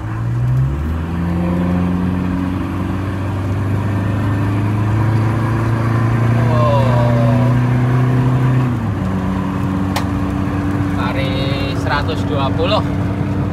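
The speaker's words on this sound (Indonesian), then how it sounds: "Kalau Hilux di remap, dipasang knalpot 3 inch." A remapped stage 1 Toyota Hilux engine with a 3-inch exhaust drones steadily under someone talking, its pitch climbing and settling as it runs; a rough exhaust note carries throughout.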